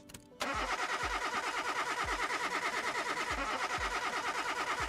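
Car engine in a car mechanic video game cranking and starting roughly, a brief start-up then a rapid, uneven chugging rhythm of lumpy pulses, loud and close, running on alone with no talk.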